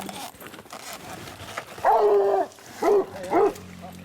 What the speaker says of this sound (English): Come on, dogs.